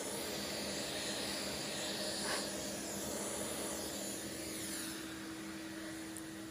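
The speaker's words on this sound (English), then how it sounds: "and then just finish off with a vacuum once again" A vacuum cleaner sucks dust out of a PlayStation 4 console, a faint, steady hiss and whine that holds evenly for several seconds with no talking.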